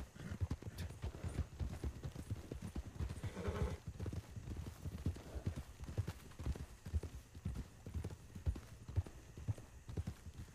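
Hooves clip-clop steadily and fairly close in WildRP, a Wild West roleplay game, with a horse whinnying briefly now and then, the rhythmic hoof beats running throughout.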